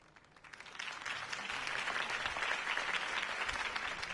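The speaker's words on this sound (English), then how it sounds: "could have heard that applause" A crowd applauds after a campaign speech by Harvey Dent in Batman: The Enemy Within, the clapping swelling in quickly from quiet and then holding as a dense, sustained wall of many hands.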